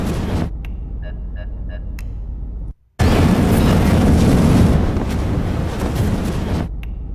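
Video game sound effects: a short stretch of low rumble with faint electronic beeps, a brief silence, then a loud booming explosion that roars on and slowly fades.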